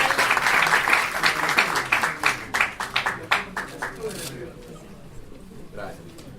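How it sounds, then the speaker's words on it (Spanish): Lecture audience at a library event in Guayaquil breaks into dense, sustained applause that tapers off over the last couple of seconds into near quiet. "Fuerte los aplausos, por favor"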